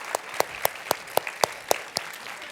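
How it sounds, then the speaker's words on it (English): A quick, steady run of sharp hand claps, evenly spaced and fairly close, with no voices. "Okay, so Coley, give her a round of applause."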